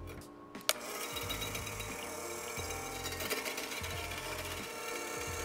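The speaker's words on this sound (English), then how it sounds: "I'm gonna use the hand mixer with a whisk attachment. And I'm gonna turn this on medium" A hand mixer with a whisk attachment runs on medium speed while beating popover batter, giving a steady, close whirring drone that starts after a click and continues throughout with no voices.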